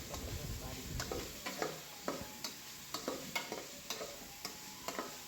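Onions sautéing in a pan with chilli powder, turmeric and salt for a homestyle chicken curry, a steady soft sizzle broken by repeated scraping stirs of a spoon against the pan, close and moderately loud.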